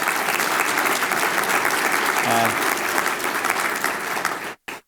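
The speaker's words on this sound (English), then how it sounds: "But you can clap for that." A conference audience breaks into a full, steady round of applause, dense clapping holding at an even level before tapering and cutting off abruptly near the end.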